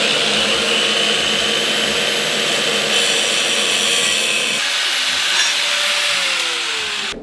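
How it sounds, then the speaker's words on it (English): Continuous loud grinding and rasping of a cutting tool slicing through a metal oil cooler pipe on a car, steady for several seconds before the pitch shifts and the cut winds down. "I'm gonna go ahead and chop it right here"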